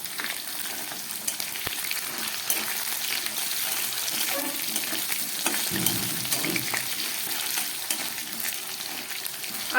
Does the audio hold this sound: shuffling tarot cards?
no